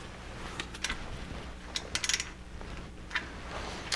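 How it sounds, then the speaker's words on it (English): Box end wrench ratcheting on a cylinder head bolt of an EF Civic, scattered sharp clicks and short ratchet bursts over a low steady background, close and fairly loud. "I'm just going to have to use a box end wrench on that and kind of estimate 22 foot-pounds"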